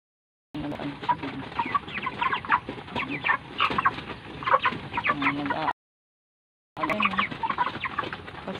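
Chickens being raised on a small farm cluck and chatter continuously at close range, busy overlapping calls broken by a brief silent gap before the clucking resumes.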